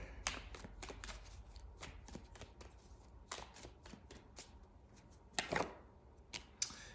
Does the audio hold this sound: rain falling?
no